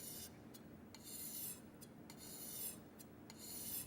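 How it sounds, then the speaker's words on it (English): A kitchen knife's tip section is drawn in slight arcs across a whetstone during traditional hand sharpening, giving soft, repeated rasping strokes at a regular rhythm, close and quiet. "Then make a slight arc as you sharpen along the edge of the kisaki."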